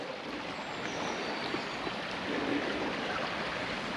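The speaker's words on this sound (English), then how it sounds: "Fair drop of water going down there." Steady rushing water of the River Swere flows without a break, a broad continuous wash of moderate loudness with no voices.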